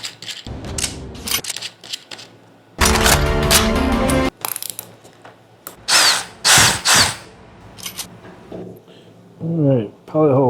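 Power drill boring a pilot hole in a kickstand plate for a Harley, with loud whining bursts that start and stop, separated by short pauses and brief talk.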